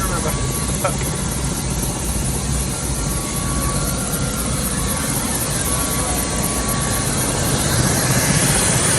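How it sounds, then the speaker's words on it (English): A loud helicopter roars close by, its rotor and engine noise steady and unbroken throughout. "Remember not to walk behind the helicopter."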